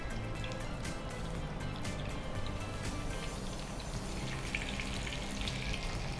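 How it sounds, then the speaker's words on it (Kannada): Stuffed bitter gourd sizzles in hot oil, giving a steady, soft crackle and hiss with faint bubbling that stays constant throughout, close but fairly quiet. "ಈಗ ಎಣ್ಣೆ ಬಿಸಿ ಆಗಿದೆ, ಇದನ್ನು ಹಾಕ್ತೇನೆ"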